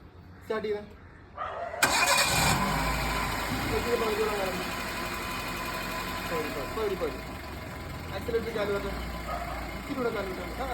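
A car engine cranks and catches during a driving lesson in Kollam, then settles into a steady idle, while people talk over it throughout.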